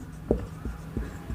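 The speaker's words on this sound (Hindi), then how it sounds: "तो चलिए यहाँ लिखते हैं" Pen writing by hand on paper or a board during a basic maths lesson, a few scratchy strokes spaced roughly a third of a second apart, close and moderately loud, with no talking.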